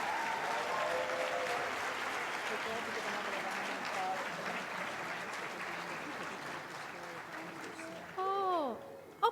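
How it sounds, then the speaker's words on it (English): An audience applauds at a medical college's white coat ceremony, sustained clapping from a large indoor crowd that gradually fades, followed by a voice speaking over a microphone near the end. "Let's give these students another round of applause."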